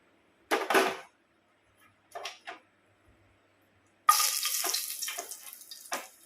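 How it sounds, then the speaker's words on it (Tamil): Spices such as cinnamon, cloves, fennel, star anise and dried red chillies are tempered in two spoons each of oil and ghee for mint rice. Brief crackles come first, then a loud, steady sizzle with sharper pops. "இப்போ நம்ம இந்த தாளிக்கிற இதெல்லாம் போட்டு தாளிச்சிடலாம்."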